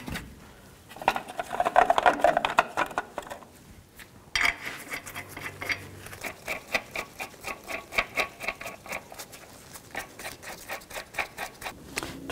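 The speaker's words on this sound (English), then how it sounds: "And put the wheel back on. Put the lug nuts on." Lug nuts being threaded by hand onto the front wheel of a 1999-2007 Chevy Silverado 2500HD: rapid metallic clicking and rattling, dense and close for a few seconds, then a run of lighter, irregular taps and scrapes.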